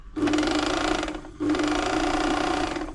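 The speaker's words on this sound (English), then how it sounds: "engage the bobbin winder with the hand wheel, release the clutch on the side. We just unthread it because I don't want it winding up, and then run the machine" A Borletti FB1102 sewing machine runs unthreaded to wind its bobbin: a close, steady mechanical whir and hum that breaks off briefly near the middle, then resumes at the same even pace.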